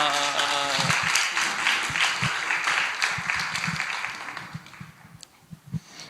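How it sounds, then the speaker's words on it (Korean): A church congregation applauds to welcome a young student to the front, a steady round of clapping that thins out toward the end, with a few louder individual claps and some talk early on. "박수로 환영하겠습니다"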